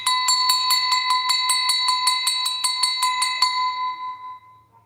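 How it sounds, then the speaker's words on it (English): A hand bell rings in a quick, steady run of about fifteen bright metallic strikes, loud and close, then stops and leaves a ringing tail that fades away alone. "You need to remind me to ring this bell because it runs demons off."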